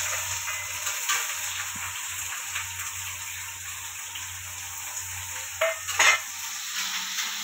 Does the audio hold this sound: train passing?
no